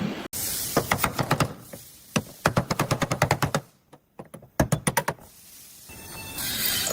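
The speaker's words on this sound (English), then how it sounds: "This automated machine applies yellow insulation labels onto thick orange high-voltage" An automated factory machine applies yellow insulation labels onto thick orange high-voltage cables, giving rapid bursts of sharp mechanical clacks in quick rhythmic runs separated by brief pauses, close and loud over a low machine hum.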